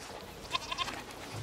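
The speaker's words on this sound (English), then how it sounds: "What's over there? Goats!" A goat in the video game A Plague Tale Requiem gives a few short, nasal bleats close by against a quiet background.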